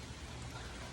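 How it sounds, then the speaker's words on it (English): Rain falls steadily on an outdoor waterfowl aviary, a soft, even hiss at low level with no other sounds. "It's raining. Been raining pretty good."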